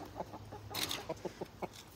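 Backyard hens at their coop give soft, scattered clucks in short bursts, with a brief louder flutter or scuffle in the middle, all fairly quiet and close.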